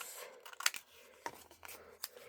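Scissors trimming scrapbooking paper, heard as a few quiet, close snips spaced irregularly over soft paper handling, with no talking.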